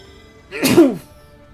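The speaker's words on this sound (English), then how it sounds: "I'm going to sneeze." A single loud, close sneeze bursts out after a short quiet lead-in, sharp and lasting under half a second before fading to silence.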